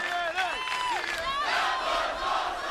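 Wrestling arena crowd roaring and cheering after a table crash: a dense, sustained wall of shouting voices with rising whoops and yells, loud and continuous throughout.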